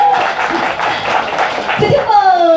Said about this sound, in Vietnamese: Thôi vỗ tay đi các bạn